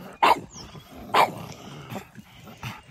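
A pug barks in short sharp bursts, about four yaps spaced roughly a second apart, close by with no talking.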